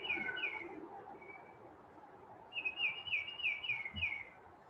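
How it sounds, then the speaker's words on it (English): Birds chirp and whistle outdoors, a few clear high calls at first, then a rapid run of repeated bright notes, moderately close with quiet background. "the chirping of birds."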